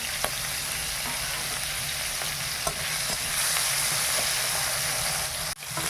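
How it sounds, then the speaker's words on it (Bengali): Fish fries in a pan of hot oil with a loud, constant sizzle and spatter, punctuated by a few sharp stirring or utensil knocks near the end, close up and without speech. "মাছটা ভাজা হয়ে গেছে, আর তুলে নেই"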